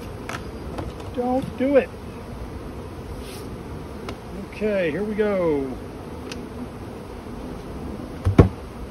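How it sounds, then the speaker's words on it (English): Honey bees buzz around an open hive being worked by a beekeeper, a steady close hum with a few louder passes as someone talks over it. "Lots and lots and lots of bees."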